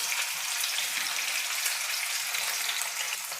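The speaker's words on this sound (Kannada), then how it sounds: "ಈ ಎಣ್ಣೆ ಬಿಸಿಯಾಗಿದೆ. ನಾನು ಬೇಯಿಸ್ಕೊಂಡಿರೋಂಥ ಆಲೂಗಡ್ಡೆನ ಸೇರಿಸ್ತಾ ಇದ್ದೀನಿ." Boiled potatoes frying in hot oil, a soft, steady crackling sizzle heard up close and quite faint, continuing evenly without pause.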